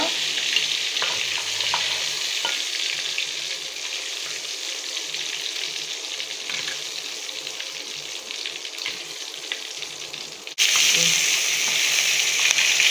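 Onions sizzle in a pan of hot oil for a prawn dopeyaza, a steady hiss with occasional stirring clicks that grows suddenly louder near the end.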